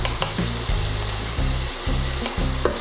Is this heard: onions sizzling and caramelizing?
yes